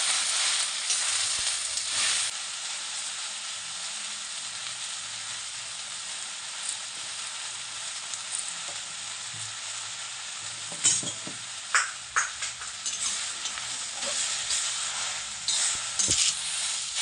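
Jute leaves sizzling and frying in a pan for a lentil dish, with a steady close hiss throughout and occasional scraping stirs and clinks toward the end.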